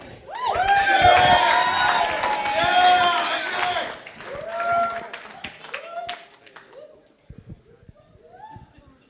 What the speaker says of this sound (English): A big round of applause for Eddie.